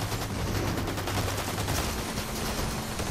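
Rapid bursts of gunfire fill a Fortnite match, dense and continuous at close range, with no talk over it.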